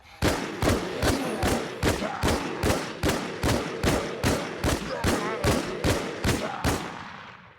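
Rapid gunfire from an IMI TAR-21 rifle in the shooter game Infestation: a steady, evenly spaced string of about seventeen loud, punchy shots over several seconds, with a short ring-out at the end.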